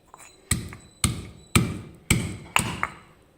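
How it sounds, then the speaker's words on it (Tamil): Garlic pounded in a stone mortar: five heavy, close thuds at an even pace of about two per second, each with a short ringing decay, with no talking. "இப்போ இந்த பூண்டை இடிச்சுக்கலாம்."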